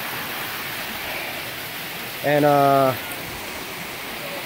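Rushing water pours over a natural rock water slide on Cedar Run Trail in Northern Virginia, making a steady broadband roar throughout, with a short spoken word partway through.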